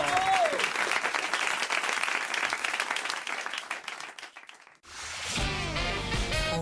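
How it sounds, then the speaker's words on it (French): Studio audience applause on a French radio show, a dense burst of clapping that thins and fades before broadcast music and a voice take over. "mon public m'applaudit"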